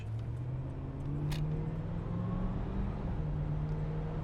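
A 1981 Chevrolet Camaro Z28 cruises steadily, its engine droning loud and close as it climbs through a couple of gear changes, with no talking.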